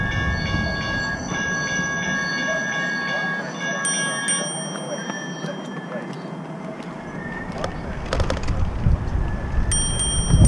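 A train rolls past close by with high, ringing wheel squeals and a rumbling undertone, and a bell rings briefly near the end under muffled background voices.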